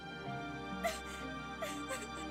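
A dog whimpers and yelps in Resident Evil Code Veronica X, giving a few short, high whines over a steady, humming game soundtrack.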